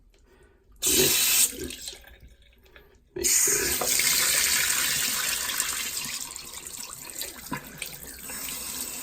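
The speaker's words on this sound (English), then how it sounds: "we are going to pull all of the water out of the tubes with using the faucet pressure" Water gushes loudly from a faucet and through an aquarium siphon tube in two bursts, the second settling into a steady rushing flow that slowly eases off, with a brief voice early on.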